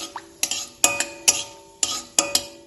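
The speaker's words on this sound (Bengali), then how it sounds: "হালকা একটু এলাচটা ভেজে নেব।" A spoon stirring four cracked cardamom pods in hot ghee in a pan gives a run of sharp metallic clinks and scrapes, arriving in quick pairs at a steady pace, close and clear, with only a faint sizzle beneath.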